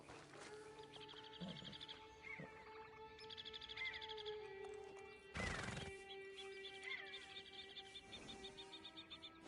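A horse in Red Dead Redemption 2 gives a clear whinny amid soft hoof movement and ambient wildlife and insect sounds, with a loud burst midway.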